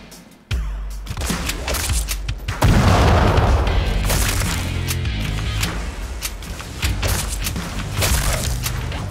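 Gunshots in the video game Badass Hero: heavy booming blasts, one sharp report followed a couple of seconds later by a louder, sustained crashing boom with rumbling, clattering mechanical noise after it.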